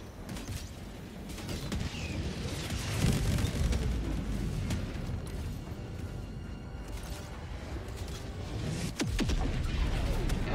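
A nuclear strike detonates in Helldivers 2, a sustained loud roaring rumble with crashing debris rolling on for several seconds, swelling near the middle and surging again toward the end.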